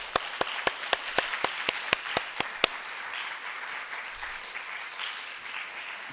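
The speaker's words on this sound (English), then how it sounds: "let's give them a round of applause." Sharp, evenly spaced claps ring out for about two and a half seconds at a museum welcome event, over a steady wash of audience applause that carries on and slowly fades.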